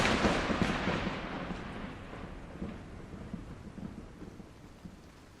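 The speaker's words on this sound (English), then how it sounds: "The rain is still falling." A rolling thunderclap fades slowly over steady rainfall, the rumble loud at first and then dying into a constant hiss of rain with faint low grumbles.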